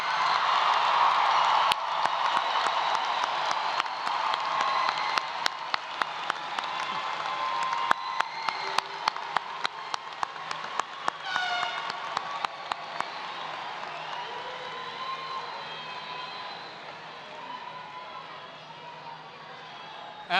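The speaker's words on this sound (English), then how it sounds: "Let's give a round of applause for the class of 2019." A crowd at a high school commencement ceremony applauds the graduating class of 2019 with sustained clapping and scattered cheers, with sharp individual claps standing out before everything gradually fades.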